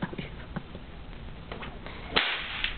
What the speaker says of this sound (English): cowboy didn't use his whip as an instrument of pain or punishment, but as a noise maker